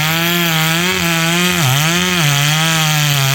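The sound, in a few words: Stihl chainsaw cutting a big oak tree for firewood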